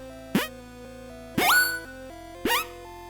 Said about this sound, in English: And then if we want a jump, we can choose jump here.